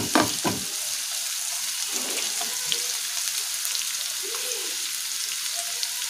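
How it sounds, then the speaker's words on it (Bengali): Onions fry in hot oil on their way to golden brown, giving a continuous close sizzle with a few scraping stirs and light crackles throughout. "এবার পেঁয়াজটা আমরা একটু বাদামি করে ভাজবো।"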